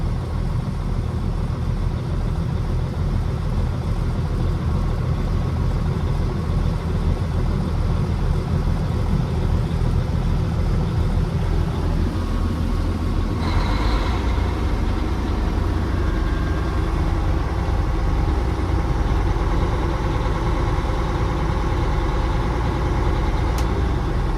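A Cat 627F scraper engine idles loud and close in a dusty outdoor setting, a constant low rumble that shifts slightly partway through.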